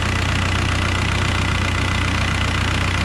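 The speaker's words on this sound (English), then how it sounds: "fans are on. They sound nice." Cooling fans running on a 2003 VW Beetle TDI, a steady, dense whirring roar with a low hum underneath, close and unchanging throughout, no talking.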